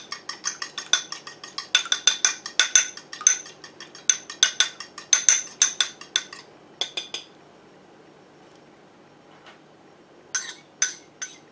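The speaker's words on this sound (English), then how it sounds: "I'm just going to whisk it up with a fork before I add it to the flour" A fork whisks eggs in a bowl, making rapid, bright metallic clinking taps. The taps come in quick bursts for several seconds, pause, and then return briefly near the end.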